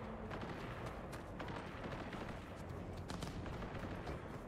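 Gunfire in the Cyberpunk 2077 video game, a dense, steady barrage of rapid shots with no pauses, heard quietly and from a distance.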